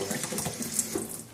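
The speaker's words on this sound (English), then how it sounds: "So you want to fill them up 1/4 of the way with water." Tap water running into cans to rinse them in a home kitchen, a steady close splashing rush heard alone.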